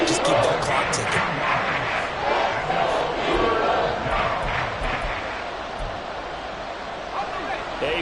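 Roaring American football stadium crowd during a broadcast game, a dense loud swell of cheering and yelling that eases somewhat toward the end, with announcer talk mixed in.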